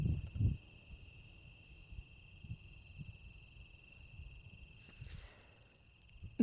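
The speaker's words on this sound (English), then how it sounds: "you can probably hear the crickets and stuff" Steady high-pitched cricket chirring carries on throughout a quiet outdoor scene, with faint low rustling and no voices.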